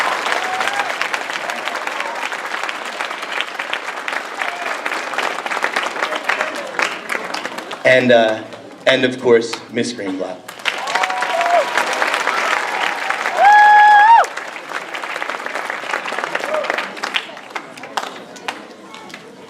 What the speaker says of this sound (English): give a round of applause for Miss Levy up in the booth